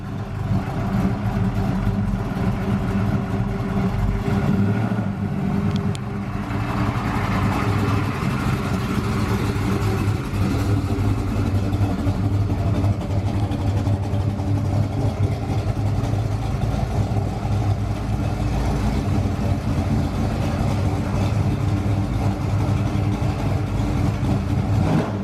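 A Chevrolet Malibu with a 406 engine runs steadily for the whole stretch, a loud, close, rumbling idle with occasional blips of revving and no talk over it.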